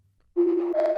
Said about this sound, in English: I added this little reverbed out bell sound